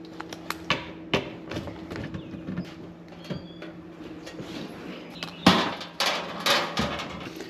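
Screws being backed out of a metal electrical panel cover in a crawl space, a series of sharp clicks and taps with scraping, louder clanks and rattles toward the end as the cover comes loose, close by.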